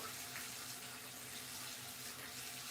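Water running steadily from a household tap, a continuous soft splashing rush that stays even throughout, fairly quiet and without voices.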